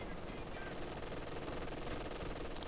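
An MG42 machine gun fires in Company of Heroes 2 on the Essen Steelworks map, a steady, unbroken rattle of rapid fire filling the whole short stretch at even volume, with no pauses.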